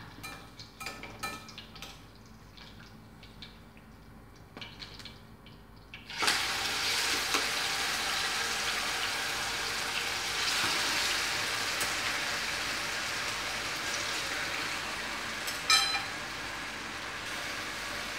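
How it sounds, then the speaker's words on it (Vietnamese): Pieces of pig liver drop into hot oil, and after a few quiet seconds of light tapping a loud, dense, steady frying hiss bursts up and continues close by without talk. "Bây giờ dầu của mình đã nóng rồi, ta bắt đầu bỏ gan vô chiên"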